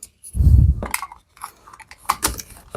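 A knife slices away a ripped section of window screen mesh, giving a short scraping cut followed by a few light snips and clicks, close by with no talk.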